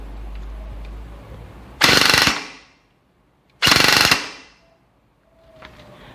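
A Lonex AKM airsoft rifle with an SP120-level spring fires two loud, rapid full-auto bursts of about half a second each, separated by silence, followed by a faint trailing mechanical noise.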